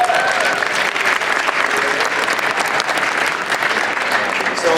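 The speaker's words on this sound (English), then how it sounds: "A big round of applause for those guys, right?" A school audience applauds its school resource officers, steady dense clapping filling the room at full strength for nearly five seconds without letting up.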